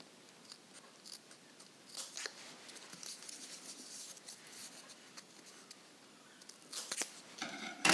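Scissors trim scrappy card edges from a handmade woven bracelet: faint, close snips and soft crunching cuts spread irregularly through a quiet room, growing a bit louder near the end.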